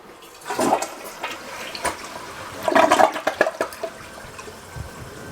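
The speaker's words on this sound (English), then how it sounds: "So I guess the last thing is to test the flushing." A newly installed toilet flushes, a loud rush of water building in two bursts with gurgling and splashing as the bowl drains and refills, close by and with no talk over it.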